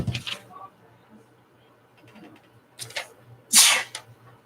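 A person sneezes twice, a short burst at the start and a louder, sharper sneeze later, separated by quiet room tone with a faint mutter between them.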